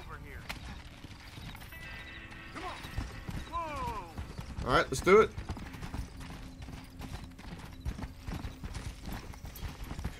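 Horses clip-clopping in Red Dead Redemption on a farm, steady hoof beats under a voice, with a brief louder whinny midway.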